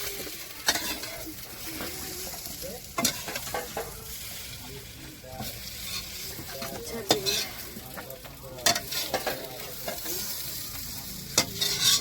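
Potatoes frying in a pan at home, crackling and sizzling steadily while a spoon stirs and scrapes them, with sharp clinks against the pan at irregular intervals, close and moderately loud throughout.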